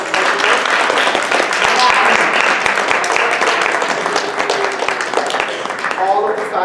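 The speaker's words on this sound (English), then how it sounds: "Can we give them a round of applause for all of this?" An audience at a university talk on the Italian Mafia claps for standing officers, giving dense, sustained applause that fills the room with some voices mixed in.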